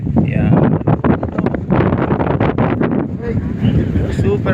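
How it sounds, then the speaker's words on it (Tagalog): Strong wind buffets the microphone outdoors, a loud rumbling roar that continues under people talking nearby. "Super sarap ng hangin"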